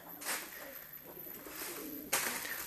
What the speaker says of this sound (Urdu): یہ جی کبوتر ہے